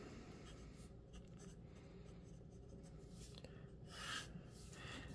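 Maora Impronte fountain pen, a wet-writing fine nib, scratching steadily across HP Premium 32 lb copy paper, close and continuous with soft pen strokes and a slightly louder stroke near the end.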